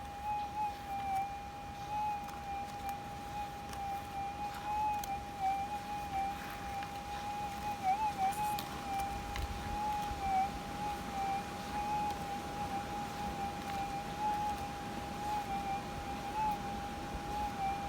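A faint, steady metal detector target tone from a Coiltek Goldhawk 10x5 coil while gold detecting, a thin continuous whine holding level throughout over wind noise.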